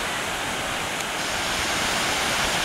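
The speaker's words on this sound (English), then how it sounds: "here's a view of our waterfall behind us" Argyle waterfall in Tobago produces a steady, dense rushing roar that stays even and unbroken throughout, with no other sounds on top.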